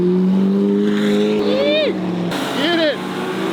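A McLaren race car drives past close by, its engine note rising and sweeping down in a quick Doppler pass, followed by another loud car passing, with crowd voices and steady engine drone underneath.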